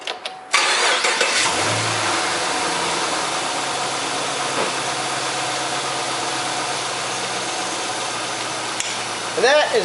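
Chevrolet Camaro engine cranks and catches after a cold air intake install, then settles into a steady, loud idle close by, with a brief rev near the end.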